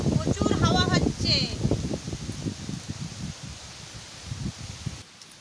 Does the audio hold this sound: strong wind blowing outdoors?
yes